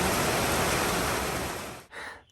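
Heavy rain pours steadily onto the roof of an Appalachian Trail shelter in Vermont, a loud, dense hiss that fills the space before dropping off abruptly near the end and then briefly returning.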